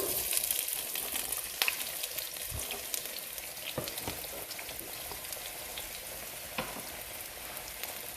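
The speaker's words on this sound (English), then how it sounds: "Right, I'm just going to add the onions." Onions frying in a pan for chicken breast dum biryani, a steady close sizzle with scattered crackles and pops throughout, no voices.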